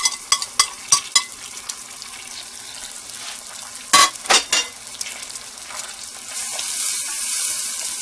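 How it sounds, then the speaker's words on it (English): Minced garlic sautéing in butter in a pan gives a soft continuous sizzle, broken by several sharp clicks and stirring knocks, with the frying hiss swelling louder toward the end. "I'm going to turn this heat down so that it sautés slowly."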